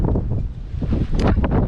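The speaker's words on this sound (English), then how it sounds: "We still got 20 plus knots of wind" Strong gusty wind of 20-plus knots buffeting the microphone on a sailboat in Lagoa dos Patos, Brazil, rumbling low and loud with brief whooshing bursts toward the end.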